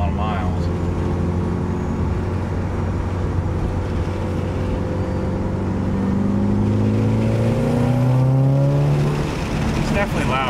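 A Mitsubishi Evo 8 engine drones steadily through an aftermarket exhaust, its pitch climbing smoothly as it revs up toward the end, with a deep, loud exhaust tone throughout.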